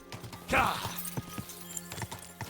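Horse hooves clip-clopping on the ground in Kingdom Come: Deliverance II, a handful of soft, uneven steps with a louder thud near the start, heard close amid game ambience as the rider slows down.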